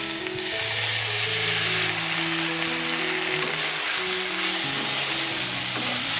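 Soaked sago being stirred and fried in a pan with turmeric for a meatless pilaf, giving a loud continuous sizzling hiss with soft stirring movements beneath it.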